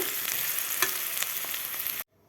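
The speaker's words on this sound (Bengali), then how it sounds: "কড়াইয়ে পেঁয়াজ দিয়ে দিয়েছি এখন ভেজে নিচ্ছি" Sliced onions sizzle and fry in a wok for a chicken curry, a steady crackling hiss with a few stirring scrapes before cutting off abruptly near the end.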